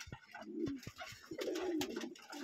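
Pure white Lotan pigeons with heavily feathered feet coo in a loft in cold weather, a low rolling coo repeating twice, mixed with soft wing and shuffling sounds close by.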